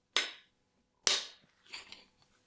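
A 17mm bolt on a BMW N42/N46 engine breaks loose with two sharp, loud cracks about a second apart, then a softer, rougher creak as it turns free.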